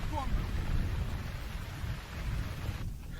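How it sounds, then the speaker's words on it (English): Rain falls on an open grouse moor as a steady broadband patter and hiss with low rumbling wind noise, continuous and fairly loud throughout. "The rain is only getting worse and the skies have darkened as the day has gone on."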